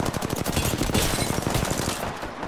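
Rapid automatic gunfire in Apex Legends, a loud continuous burst of closely spaced shots that runs for a couple of seconds before tailing off, with no voices.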